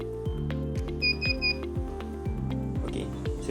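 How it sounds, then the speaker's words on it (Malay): A temperature scanner attendance system sounds its buzzer, while a steady rhythmic electronic beeping pattern repeats about every quarter second, with a few brief higher tones layered over it. "buzzer akan berbunyi dan dia akan memaparkan nilai suhu dan status suhu"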